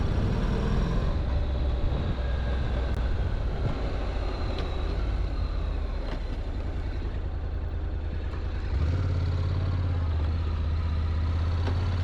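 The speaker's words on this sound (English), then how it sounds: "Let's start out and drive, get out on the road, see how it reacts." A Honda DCT automatic motorcycle pulls away and rides off, a steady low engine drone with wind rumble that drops in pitch near the end as it shifts, alone without talk.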